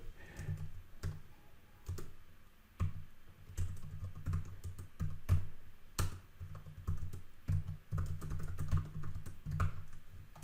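Typing on a computer keyboard while writing a Reddit comment, steady bursts of key clicks with a few louder strokes, close and alone with no talk.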